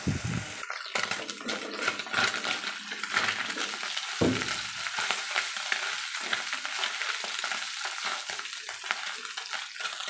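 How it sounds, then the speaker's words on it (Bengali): Kajki fish fry in hot oil in a pan with a constant crackling sizzle, broken by a couple of sharp utensil knocks and stirring scrapes near the start and middle. "এবার একদম ভালো করে লাল লাল করে ভেজে নেবো"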